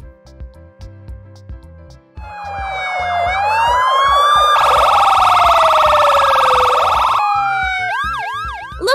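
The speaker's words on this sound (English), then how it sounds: "Here comes our police car at the end." A police car siren cycles through several patterns, first a steady wail, then a fast, piercing yelp, then rapid whooping bursts, all loud and close with no talking, after a few short chirps at the start.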